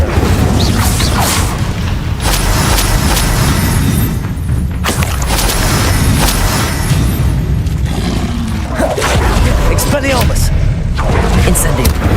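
Loud booming spell blasts and whooshes from combat in the Hogwarts Legacy video game, an Incendio fire spell among them, with repeated thuds and crashes packed densely throughout and a voice shouting over the fight.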